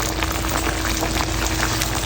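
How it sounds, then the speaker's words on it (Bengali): A golden pomfret fish curry with fried pomfret, taro and potatoes simmers in a pan with a close, dense, continuous bubbling and hissing. "এটা পাঁচ মিনিট ফুটবে বেশি ফুটবে না"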